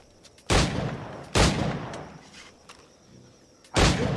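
Booming gunshots in Assassin's Creed IV Black Flag, three loud blasts with a long decaying tail, each spaced about a second or more apart and standing alone without talk.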